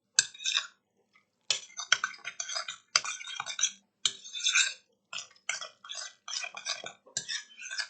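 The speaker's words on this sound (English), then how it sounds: "Mix that together." A spoon stirs a can of cream of mushroom soup into a mixture in a bowl, making repeated bursts of close scraping and clinking with short pauses and no talking.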